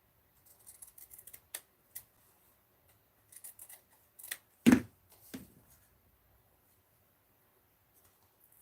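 Scissors cut paper for a mini art journal, with a series of small quiet snips followed by one sharper, louder cut and a few soft trailing snips, close by in a quiet room.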